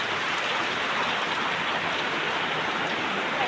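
Heavy monsoon rain falls steadily in a Gujarat village, making a dense, even hiss of drops on surfaces with no breaks.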